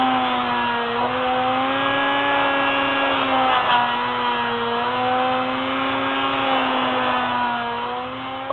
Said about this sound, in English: I'm going to grind this down a little bit so there's no dirt and debris around it